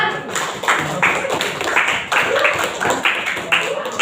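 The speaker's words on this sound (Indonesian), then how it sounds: "Kasih tepuk tangan dulu di kelompok 2." Students in a high school classroom clap for a presenting group, a few hands patting in loose, uneven rhythm over several seconds while voices murmur and talk through it.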